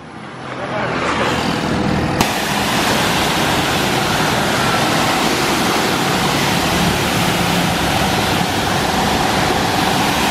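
An OK511 high-pressure car washer, a Japanese domestic model with ceramic pistons and high flow, starts spraying after a second of quiet, then holds a loud, steady, close hiss of water.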